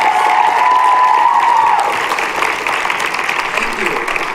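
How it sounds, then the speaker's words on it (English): Sustained applause from an audience at a high school winter choral concert, loud and dense throughout, with a brief sustained tone at the start as clapping continues steadily to the end. "Can we give them one more round of applause?"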